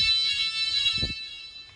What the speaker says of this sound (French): Regarde, il y a l'alarme incendie dans wepedia.